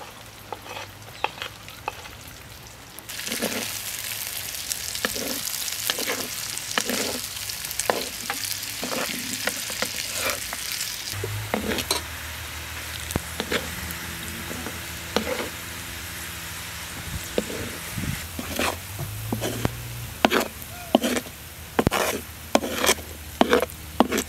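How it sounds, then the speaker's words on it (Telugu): Onions frying in ghee for egg dum biryani give a steady crackling sizzle, joined by repeated scraping and clacking of a spatula against the pan that grows more rhythmic toward the end; close, no voices. "ఇదే నెయ్యిలో ఉల్లిపాయలు కూడా ఎర్రగా వేయించుకోవాలి"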